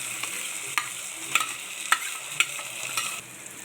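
Biryani masala paste sizzling in a pan with fried onions for veg basmati rice biryani, a steady frying hiss broken by several sharp scrapes and clacks of a spoon stirring.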